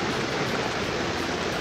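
A rain-swollen waterfall near Rajmachi fort roars as a steady, dense, full-band rush of water, close and unbroken, with no voices.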